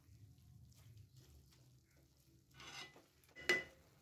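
Milk being stirred into grated carrot for halwa: soft, faint wet stirring and scraping in a pot, with a louder splashy stir and a sharp clink of the spoon near the end.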